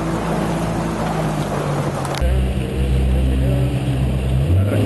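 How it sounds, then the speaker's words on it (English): A 2014 Deno 17 flats boat on a sea trial, its outboard motor droning steadily and close with a low hum that steps up in intensity partway through, with water rushing along the hull. "just wanted to give you a taste of a little sea trial of this 2014 Deno 17 flats."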